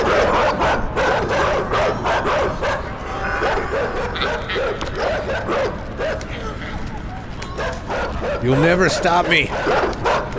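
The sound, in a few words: dog barking in the video game Inside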